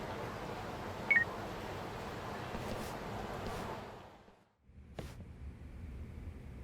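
A phone number is dialed in the video game Judgment: a few faint electronic tone beeps over a soft hiss, a brief dropout, then one sharp beep.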